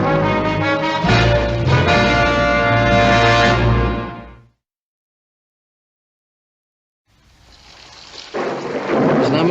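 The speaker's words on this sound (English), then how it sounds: "It's not much of a rain, but it sure came up fast" Thunderstorm with rain that comes on suddenly: loud, deep rolling thunder over a hiss of rain for about four seconds, then silence, then the rain hiss building back in.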